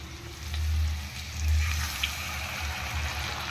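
Room-temperature water poured into a cornflour mixture, a steady close wash of splashing liquid with a slight swell in the middle, continuous and fairly loud for a few seconds.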